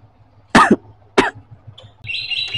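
A person gives two sharp coughs about half a second apart, close and loud, followed by high chirping bird calls, with low background hum throughout.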